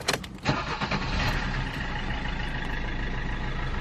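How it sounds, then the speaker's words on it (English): A car engine cranks briefly and catches, then settles into a steady, loud idle that continues close by. "Let's start the vehicle up and see what we got."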